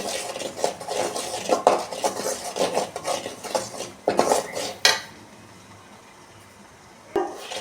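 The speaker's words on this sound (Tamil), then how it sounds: "நல்லா நெய்யிலே அப்படியே வறுத்துறணும்." Flour roasting in ghee and oil in a pan while being stirred. Repeated metal scraping and clattering strokes fill the first five seconds, then a quiet low hiss follows, with one more scrape near the end.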